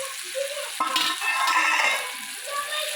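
Cumin, mustard seeds and turmeric sizzle in hot oil as the tempering for a tomato amti, a steady crackling fry with a sharp burst as the spices hit the pan, close and continuous.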